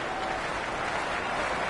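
Crowd at a Pakistan Super League cricket match, Karachi Kings against Islamabad United, keeps up a dense, steady roar of cheering and applause that fills the stadium without a break.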